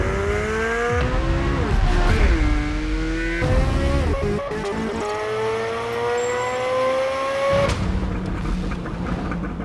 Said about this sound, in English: we are greeted with a glorious sounding flat plane crank a couple different times.